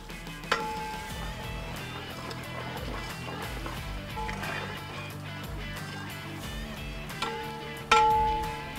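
Sliced shallots sizzling and frying in oil in a pot for mutton leg biryani, a steady close crackle with scraping stirs and occasional clanks of the spoon against the metal.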